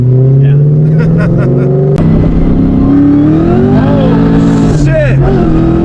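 A supercharged 2003 Ford Mustang SVT Cobra engine, fitted with a Lightning supercharger, revs hard and loud from inside the car, its pitch climbing steadily with gear changes, while people talk over it.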